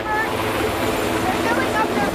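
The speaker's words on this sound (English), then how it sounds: "Right now, three helicopters are attacking the fire." Helicopters working a wildfire over the Thompson River, their rotor and engine noise a steady, loud drone running through the whole moment alongside a voice speaking over it.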